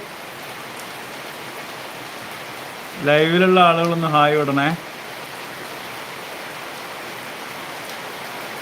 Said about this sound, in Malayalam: നല്ല മഴ കേട്ടോ പുറത്ത് ഒരു രക്ഷയില്ല പുറത്തിറങ്ങാൻ പറ്റില്ല